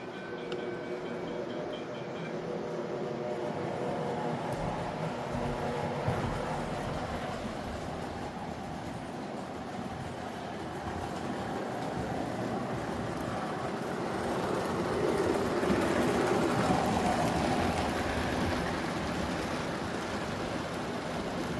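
A model train locomotive, recently oiled and greased, creeps slowly around its track with a steady low rumble and rolling clatter that builds slightly toward the end, continuous throughout with no talking.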